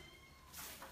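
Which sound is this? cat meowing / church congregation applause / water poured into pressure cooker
cat meowing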